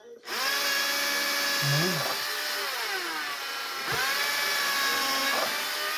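Power drill boring holes to mount a bee feeder with drywall screws. The drill whines loudly and continuously, with its pitch rising and falling as it speeds up and slows, and a voice briefly speaks over it.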